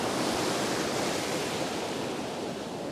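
Surf breaking on an Australian beach while salmon fishing, a steady broadband wash of waves with a faint wind rush, continuous and close, no talk.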